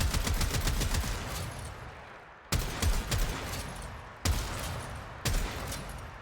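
Weapon fire in the Warframe video game starts with a rapid burst of shots, then three separate loud single shots follow at uneven gaps. Each shot rings out with a decaying tail, and nobody speaks.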